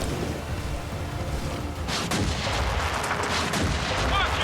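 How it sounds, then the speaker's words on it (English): Rockets launched in Gears of War 4 with booming, rumbling blasts under a continuous roar of battle noise, loud and close, the heaviest bursts arriving in the second half. "Rockets are away."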